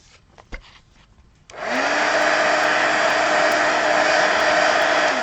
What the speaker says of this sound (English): let me hit it with the heat gun.